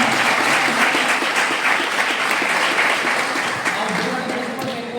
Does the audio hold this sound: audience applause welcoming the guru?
yes